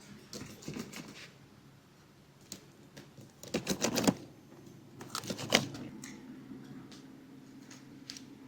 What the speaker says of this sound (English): I'm going to cut this lower dorsal fin off. I'm just going to come straight down.